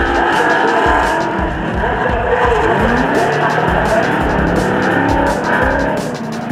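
Drift cars battling at a New Zealand championship round, among them a brand new Ford Mustang RTR, with loud engines roaring and screaming tires under a continuous wash of crowd and commentary noise.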